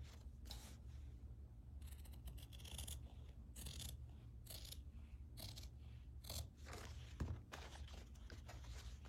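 Fabric being cut in half with scissors after cutting out a circle, giving a run of soft, close snipping and crunching strokes at a steady, uneven rhythm, with no talking.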